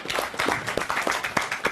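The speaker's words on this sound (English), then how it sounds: "Yeah, a round of applause." A brief round of applause from a small group, steady dense clapping throughout without speech over it.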